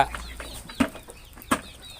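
Chickens cluck during a morning feeding at a village yard where ducks and chickens are raised, with a few short, distinct clucks and calls spaced over steady low background noise.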